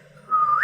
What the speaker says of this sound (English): Wow, nice whistle, buddy.